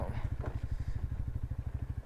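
A Royal Enfield Bullet motorcycle engine idling close by, a deep, rapid, even thump-thump beat that holds steady throughout.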